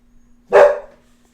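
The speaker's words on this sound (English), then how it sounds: "Dog is barking." A single close, loud dog bark, short and sharp, standing alone against a faint steady hum with no talking.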